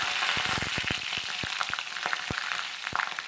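Mustard seeds pop and crackle sharply in hot oil over a constant sizzle, the snaps coming in quick irregular bursts up close.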